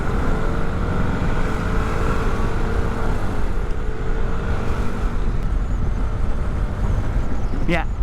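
A Vespa Sprint 150 ABS scooter, a special 10th-anniversary Thai edition, is held at full throttle on the road. Its engine gives a steady, droning hum that stays close and loud under constant heavy wind rush for the whole stretch.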